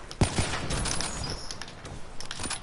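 Gunfire sprays in Black Ops 3 as a quick burst of sharp shots, one strong report followed by scattered rapid cracks over a noisy game background.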